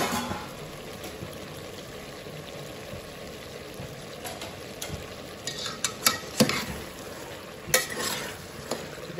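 Vegetables frying in hot oil in a pan for veg dum biryani, a steady low sizzle with occasional louder stirring scrapes and spatters, close up and with no talking.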